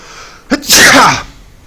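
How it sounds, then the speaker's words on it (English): A single loud, close sneeze with a short sharp intake of breath just before it, followed by quiet. "warning, I might have to sneeze."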